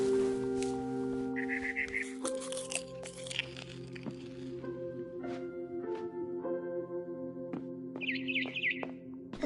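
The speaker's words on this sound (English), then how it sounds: "It was a barn swallow going back to her nest." Barn swallow chirping in a PS4 video game: short, high twittering bursts near the start and again near the end, set over steady, sustained game music tones.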